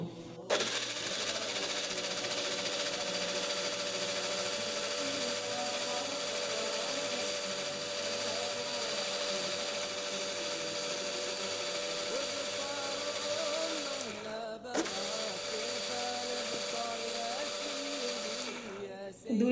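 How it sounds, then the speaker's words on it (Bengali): A blender runs continuously on papaya milkshake with ice cubes, giving a steady whirring drone that breaks off briefly near the end and then resumes. "এবার আমি ব্লান্ডার জারে ঢাকনাটা লাগিয়ে দুই মিনিট ব্লেন্ড করে নেব"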